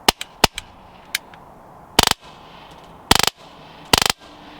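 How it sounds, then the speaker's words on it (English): An AceTech BiFrost tracer unit on an airsoft gun fires BBs past the camera, with single sharp cracks and then three short rapid bursts, loud and close, with no talking. "I'm gonna shoot it past the camera like this so you can see the blue."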